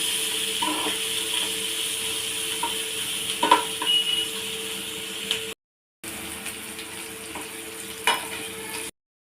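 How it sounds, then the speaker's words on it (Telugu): Asafoetida tempering frying in a pan while horse gram rasam (ulavacharu) is made: a steady close sizzle runs throughout, with a few soft stirring knocks and a brief silent break near the middle, and no talk. "ఇంగువ మన ఇష్టం నచ్చితే వేసుకోవచ్చు లేకపోతే స్కిప్ చేసేసేయచ్చు ఇలా కొద్దిసేపు ఫ్రై చేసుకుందాం"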